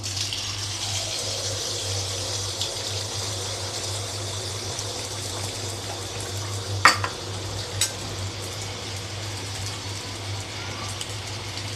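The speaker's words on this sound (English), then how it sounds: "Now the oil has become hot. Now I will put the batter into the oil." Neyyappam batter fries in hot oil, giving a steady soft sizzle under a low hum, with a couple of sharp metallic clinks partway through.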